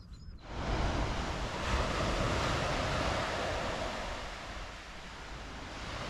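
Waves surging onto a shingle beach beside the coast path between Burton Bradstock and Weymouth, a steady broadband roar of surf and wind that holds loud throughout and eases slightly near the end.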